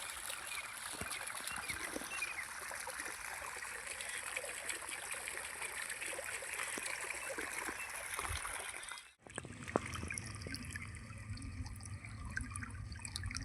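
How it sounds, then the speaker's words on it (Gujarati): Rainwater trickles and flows steadily into an onion seedling field, a continuous watery babble nearby, cut off abruptly near the end before quieter background sounds. "30 તારીખને આપણે પાલર પાણી છે તે ઉતારી દીધું છે"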